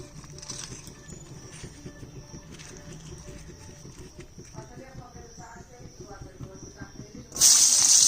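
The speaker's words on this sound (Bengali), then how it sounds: "অল্প অল্প করে ভাজি" Pieces of spiny gourd (kakrol) coated in salt and turmeric fry in hot oil with a steady close hiss and faint crackle, then a sudden loud burst of sizzle near the end.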